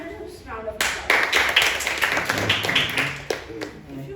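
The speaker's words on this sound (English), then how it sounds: "Let's call her with a thunderous round of applause." Audience at a Holi special club meeting claps for the grammarian being called up, a burst of clapping from a small room that runs steadily under some talking voices.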